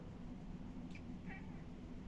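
Cat named Taffy gives two short, faint meows about a second apart over a low steady background hum.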